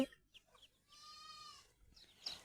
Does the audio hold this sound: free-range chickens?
yes